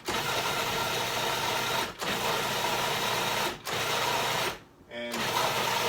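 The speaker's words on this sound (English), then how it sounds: "So we have all of the ingredients in the processor" Food processor blending guacamole salad dressing: a loud, continuous motor whir running in bursts, cut by two brief pauses and a longer stop near the end before it starts again.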